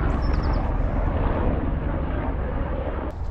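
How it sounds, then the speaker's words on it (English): Three helicopters fly overhead near farm fields, producing a steady, loud rumbling roar with a broad engine wash and no talk. "There's already one on pie. There's another one. And there's another one. Three helicopters."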